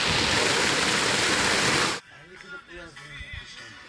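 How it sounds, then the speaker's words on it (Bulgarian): A 150-metre waterfall roars as a loud, steady broadband rush for about two seconds, then cuts off abruptly. Quieter ambience and faint voices follow. "Този водопад е висок 150 метра."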